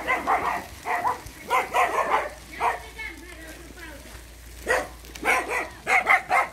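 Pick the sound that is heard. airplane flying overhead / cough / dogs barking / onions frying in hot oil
dogs barking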